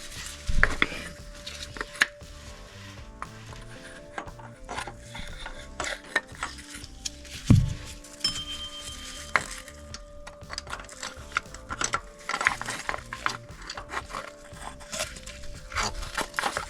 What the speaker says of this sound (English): we go ahead and get the hammer and the block and try to pry it out